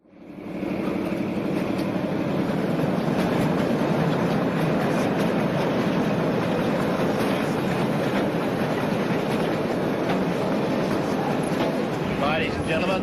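The Ghan passenger train rolls along the rails through outback Australia, a loud continuous rumble with rhythmic clatter of wheels over track joints, steady and close throughout.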